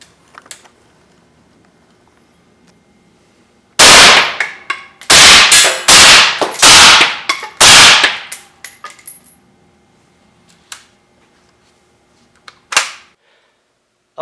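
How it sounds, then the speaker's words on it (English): Five loud, sharp shots from a suppressed Tavor rifle firing M855 penetrator rounds at an AR500 steel armor plate, a quick rhythmic string with ringing impacts, followed by quiet and one more isolated crack near the end. "now we're going to do 5 rounds of M855 Penetrators out of a suppressed Tavor"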